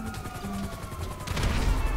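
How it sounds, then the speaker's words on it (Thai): A motorcycle explodes in GTA V Online, a loud, close burst of crashing noise that swells in the second half over a rumbling background. "มอไซค์ระเบิด"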